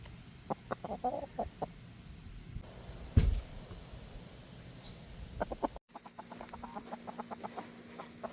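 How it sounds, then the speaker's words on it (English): A rooster clucks in short bursts of low calls, close by, with a sharp knock partway through and quiet outdoor background between clucks. "This is a rooster."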